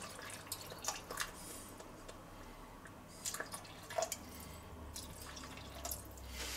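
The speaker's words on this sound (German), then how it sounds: "So, jetzt tun wir das ganz leicht aufköcheln lassen. Es blubbert." A beef stew with beef and roasting stock simmers gently in a pot, giving faint, sporadic bubbling pops and drips over a quiet background.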